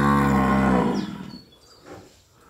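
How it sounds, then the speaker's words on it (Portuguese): A cow on a rural farm gives a single loud, close moo lasting under a second, followed by faint rain and background noise. "As vacas estão numa berraria."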